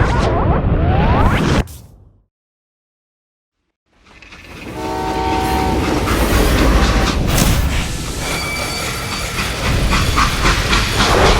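Train running in the Call of Juarez Gunslinger game, a steady loud rumble and hiss with steam and clanking, cutting out to brief silence before returning with high whistle-like tones over the rolling noise.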